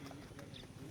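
Horse hooves clip-clopping at a communal ranch in Bukidnon, a faint, quick patter of steps heard at a distance under outdoor background noise.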